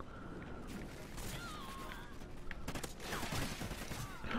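Rapid gunfire from a multiplayer match of Call of Duty: Ghosts on PS4, a steady dense fusillade with sharp cracks throughout, fairly loud, with faint game effects mixed in and no clear speech.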